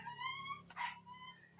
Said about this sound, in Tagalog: Yan ang ingay ng tuta na yan.